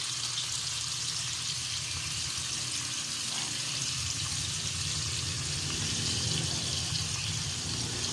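Water runs steadily into a hot pan of broccoli and pork with oyster sauce, a continuous rushing pour with sizzling underneath, close and fairly loud throughout.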